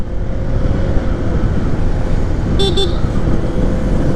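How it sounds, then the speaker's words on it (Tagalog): A 2023 Honda ADV 160 motorcycle horn gives a short double toot over steady close engine rumble and road noise, two quick beeps near the end. "Ang cute ng busina ko."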